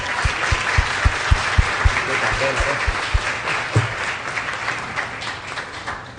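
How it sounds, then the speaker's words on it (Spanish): Audience applause welcomes a speaker at a talk on training for Black and Afro-descendant youth; sustained crowd clapping is mixed with low rhythmic thumps early on and voices in the room. "Hoy recibimos a Wilson con un fuerte aplauso"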